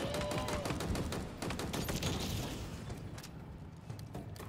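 Commando rifle firing in the video game Halo Infinite, rapid sharp bursts of automatic gunfire in quick succession for the first two seconds, then trailing into scattered shots and a fainter combat din.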